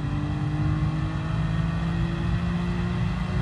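Steady, loud engine drone of a car in the racing video game Gran Turismo Sport, a constant mid-revving hum with no talk, holding at the same pitch throughout.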